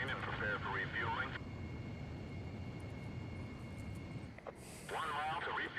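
A fighter jet engine roars steadily in flight in Ace Combat Zero, a continuous broadband rumble heard under radio voices that speak at the start and near the end.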